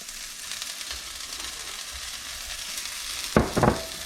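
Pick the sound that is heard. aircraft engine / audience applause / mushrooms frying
mushrooms frying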